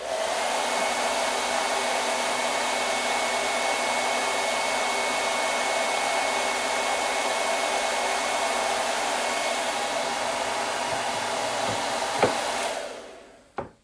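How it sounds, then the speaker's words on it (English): A hair dryer blows steadily up close for a long stretch, drying wiped-off glue and wax paste on a craft piece, a loud even whoosh that cuts off abruptly near the end. "Blow dry it."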